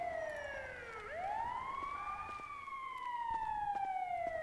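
An ambulance siren wails in rising and falling sweeps, fairly distant and steady over a low street rumble, with no talking over it.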